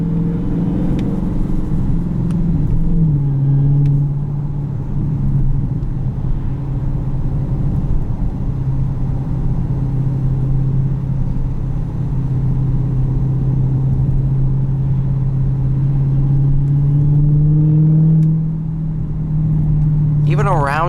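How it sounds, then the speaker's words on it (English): A 2020 Dodge Challenger Hellcat runs with a steady supercharger whine over a deep, rumbling exhaust note, loud and sustained from close inside the car, with someone talking over it. "the supercharger whine. Matched with that exhaust note, it's just something else."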